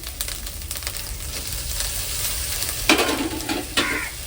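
Ginger garlic paste sizzling and frying in a pan while being stirred, a steady close hiss with a few sharper scraping bursts from the spoon toward the end, no talking.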